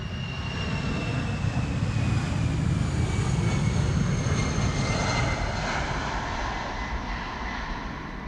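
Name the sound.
airplane departing Amsterdam Schiphol Airport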